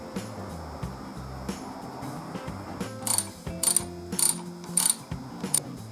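Bolts on a chrome clutch master cylinder bracket being tightened on a Harley-Davidson, heard as rapid ratcheting clicks in short bursts that grow louder and sharper toward the end.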